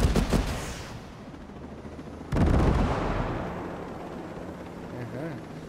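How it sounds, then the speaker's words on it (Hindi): In the video game Ghost Recon Breakpoint, a few rapid gunfire-like cracks, then a sudden loud explosion boom with a rumbling tail that fades over several seconds. "थोड़ा मैं धमाका कर लूँ"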